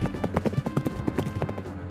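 Cavalry horses' hooves clip-clop in a quick, uneven run of close, sharp strikes, with many overlapping hoofbeats and a faint background murmur.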